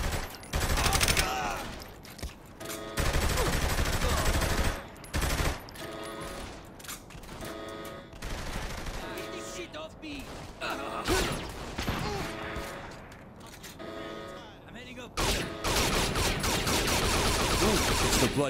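Bursts of automatic gunfire in Saints Row The Third Remastered, loud, close and chaotic, recurring in clusters with short gaps, mixed with mechanical game sounds and occasional voices talking.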